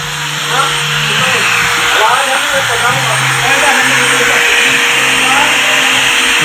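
Spin drying machine running after repair, a steady loud mechanical whir and hum with tonal drones throughout, while a person speaks over it.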